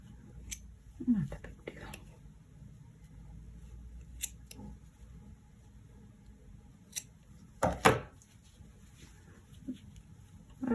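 Scissors snipping a crochet yarn end, a few quiet close crisp cuts spread across the stretch with soft handling noise and a brief murmured remark.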